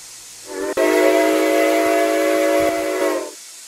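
A steady 4449 steam locomotive whistle in a video game rises in, holds a rich multi-tone blast for a few seconds, then fades out, with steam hiss underneath.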